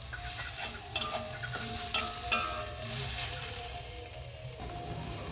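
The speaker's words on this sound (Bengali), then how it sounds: "এরকম নাড়তে নাড়তে চিনিটা খুব সুন্দরভাবে গলে যাবে" Grated coconut and sugar stirred in a pan for patishapta filling, a soft continuous sizzle with several light clinks and scrapes of the spoon against the pan, close and fairly quiet, without talk.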